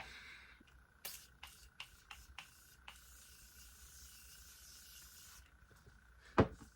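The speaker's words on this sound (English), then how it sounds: "So let's just spray. I hope it doesn't get in my hair." A long soft hiss of makeup setting spray misting steadily for a few seconds after several short clicks and taps, then stops; a sharp knock follows.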